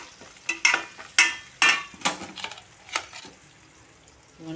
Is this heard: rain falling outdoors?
no